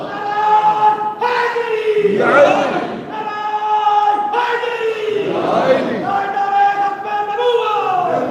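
A large crowd at a religious gathering chants slogans in unison, answering a leader's call with a loud, drawn-out shout, and the call-and-response repeats a few times over steady crowd noise.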